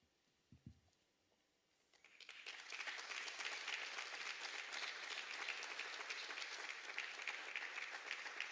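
An audience at a regional top-award ceremony breaks into applause after a quiet pause with a couple of soft knocks, the clapping swelling quickly into a dense, sustained round that carries on to the end.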